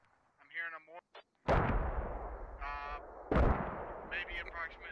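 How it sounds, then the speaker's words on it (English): Mortar salvos in the Squad video game: two heavy broadband booming impacts with long rumbling decay, separated by a couple of seconds, with brief voice fragments before and between them. "They're using multiple salvos of mortars for one man."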